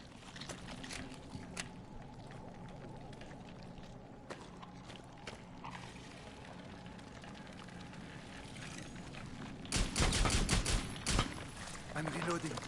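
Gunfire in Rainbow Six Extraction, with sporadic shots under game ambience building to a dense loud burst of rapid fire near the end, and a voice speaking at times.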